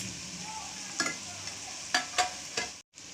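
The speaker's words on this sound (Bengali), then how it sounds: "তো আমি এক এক করে মশলা কষিয়ে নিচ্ছি।" Ground spices (chili, cumin, cardamom and coriander powder) frying in oil for a spinach chicken curry, with a steady sizzle and a few sharp spoon scrapes against the pan, close and alone.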